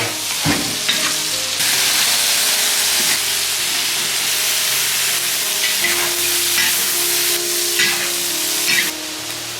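Light soy sauce hits noodles frying in a wok for a home-style braised noodle dish, setting off a loud, steady close-up sizzle and hiss with a few stirring scrapes and knocks.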